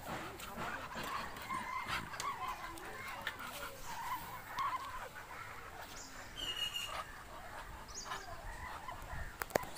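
Chinese geese on a farm in Assam give faint, intermittent honking calls over low clucking from other fowl. The birds sound distant and quiet against steady outdoor background noise.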